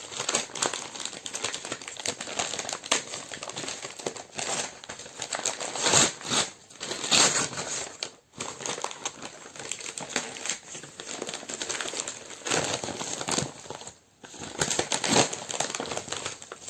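Parcel heavily wrapped with tape everywhere being unwrapped, giving steady close crinkling and crumpling of packaging with tearing bursts throughout, a few brief pauses along the way.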